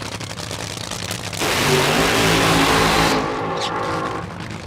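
Justin Ashley's Top Fuel dragster engine rumbles, then surges into a loud roar for a couple of seconds as the car rolls forward before easing back down, with a commentator talking over it.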